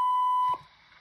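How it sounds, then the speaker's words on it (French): A single sharp electronic beep holds for about half a second, then cuts off into quiet line noise. "Veuillez laisser un message après le bip sonore."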